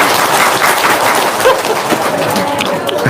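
A studio audience clapping on cue, a dense steady patter of many hands continuing throughout with little variation.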